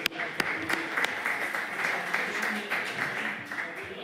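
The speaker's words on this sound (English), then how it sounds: "Let's give them a round of applause." Conference audience at a COP28 panel session on reducing Scope 3 emissions applauds, a dense, steady round of clapping from many people with a few sharp nearby claps, filling the room throughout.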